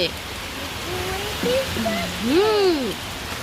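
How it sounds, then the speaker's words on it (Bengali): Heavy rain that has just begun pours down in a constant broad wash of noise, while voices talk over it throughout. "হ্যাঁ, জোরে বৃষ্টি পড়ছে।"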